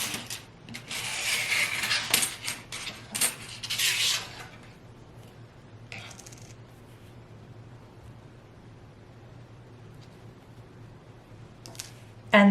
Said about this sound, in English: so I'm gonna die cut these.